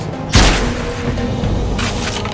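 A generator blowing up in Tribes: Ascend, one heavy boom with a burst of crackle, then a dense rumbling wash of battle noise that continues behind it.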